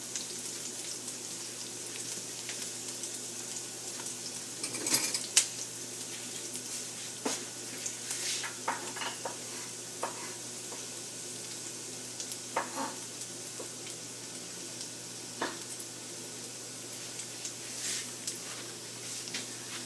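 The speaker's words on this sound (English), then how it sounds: "we don't want the garlic to burn. That's why the olive oil has been heated with the butter" Garlic sizzles gently in heated olive oil and butter for French onion soup, a soft, steady hiss with occasional small pops and clicks, faint and fairly distant.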